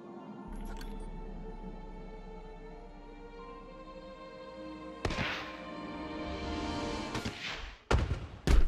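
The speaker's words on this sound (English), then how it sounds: "And you hear those fireworks." Fireworks in the Planet Coaster video game go off as a few heavy booms and thuds, one big burst midway and more in quick succession near the end, over a steady background of game music.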